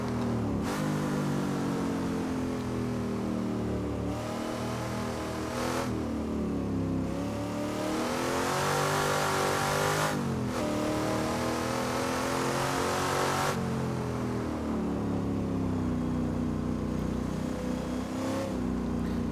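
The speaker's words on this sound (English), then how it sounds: "I think this is the worst sounding car of the bunch" Race car engine from the GT Legends mod for Assetto Corsa, revving loudly and continuously with repeated rising and falling gear-change sweeps, heavy reverberant tone, no talk.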